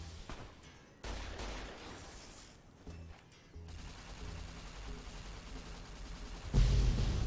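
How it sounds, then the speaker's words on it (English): Gunfire and explosions in a Fallout video game: scattered rapid bursts and booms of varying loudness, ending in a heavier rumbling blast near the end. "That explosion is so big."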